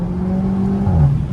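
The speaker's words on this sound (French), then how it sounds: "Du moteur, du son moteur." A Cupra Leon engine tuned for pops and bangs hums steadily and then rises in pitch as it revs up, loud and close, with no voices.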